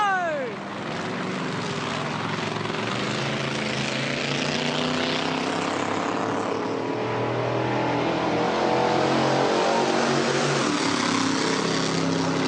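Loud, steady engine roar from a 1,000-horsepower JCB GT backhoe fired up at Bathurst, revving hard and sustained throughout with broadband mechanical noise and a brief rising whine at the start.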